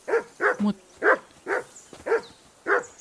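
A dog in the medieval video game Kingdom Come Deliverance 2 gives a rapid series of about seven sharp, close barks in quick, fairly even rhythm.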